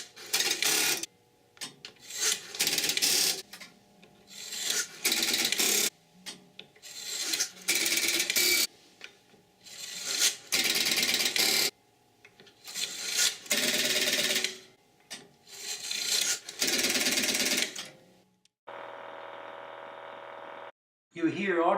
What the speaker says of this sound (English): You dial the local telephone number, Beechwood 4